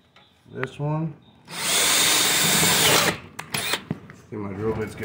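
A power drill removing screws from a Dell OptiPlex 9020 case gives one steady whir of about a second and a half, close up, between bursts of a man's speech.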